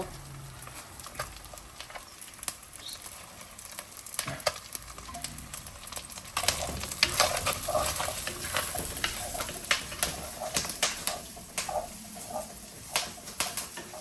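Oil sizzles and crackles in a pan while a shark fish curry is made, a steady frying hiss with irregular sharp pops that grows busier and louder partway through, close and alone.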